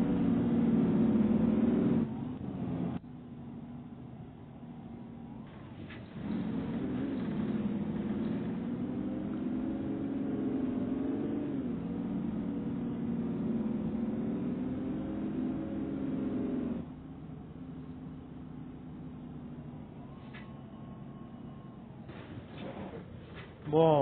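Car interior with a steady engine hum and road drone, pitch shifting gently as it accelerates and eases off, under a long stretch of talk and cutting out briefly at times.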